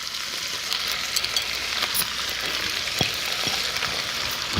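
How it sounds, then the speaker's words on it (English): Sausages seasoned with peperoncino and sliced mushrooms fry in a pan, giving a steady close sizzle with a few scattered pops and crackles and no voices. "you let that cook and wilt. And then you add the sliced mushrooms"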